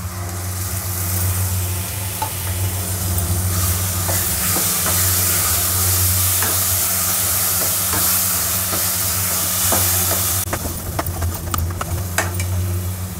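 Tomatoes hit hot oil in a pan for a black chickpea curry, bursting into loud steady sizzling with scraping stirs, then a sharp crackling surge near the end.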